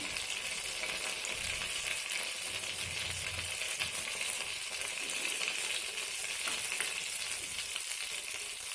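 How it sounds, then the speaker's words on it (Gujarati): Cumin seeds sizzling in hot oil over a low flame, a soft continuous hiss and crackle that holds evenly throughout, heard alone without talking. "જીરું નાખીશું જીરું સેજ ખીલે"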